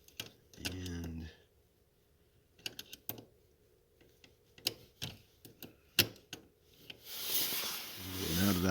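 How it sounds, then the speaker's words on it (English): An Allen wrench tightens bolts on a fire extinguisher mount in a pickup truck, giving irregular close metallic clicks and ratcheting taps with pauses, ending in a rising rustle. "now that I've tightened everything down on both sides with the Allen wrench and the bolts"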